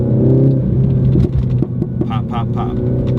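Mini Cooper S fitted with a Borla S-Type exhaust pulls in second gear, a loud close engine drone followed by a short series of sharp exhaust pops and crackles near the end.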